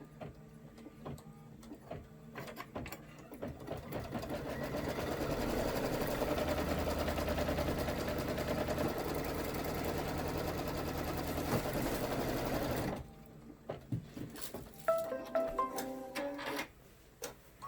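A sewing machine runs a placement stitch on fabric for a party hat. It holds a steady, fast mechanical whir for about nine seconds, then stops, followed by a few scattered clicks and handling noises.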